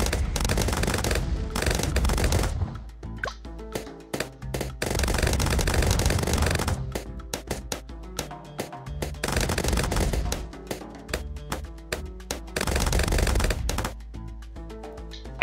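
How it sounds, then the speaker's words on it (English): Machine-gun fire in the tower-defense game Bloons TD 6 rattles in rapid, continuous bursts, loud and dense, layered over tonal game music. "Now he's got a machine gun."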